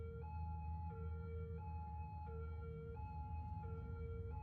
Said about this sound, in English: Oh, there it is. The ambulance.